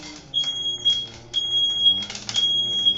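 A smoke alarm set off during coffee roasting sounds three long, shrill high-pitched beeps in a row, loud and close, with faint background noise between them.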